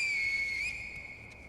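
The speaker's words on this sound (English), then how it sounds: "we can use the finger whistle again" A sharp, high finger whistle from the video game Sekiro rings out steadily, dipping slightly in pitch midway before holding on at a constant tone to the end, loud and clear with no talk over it.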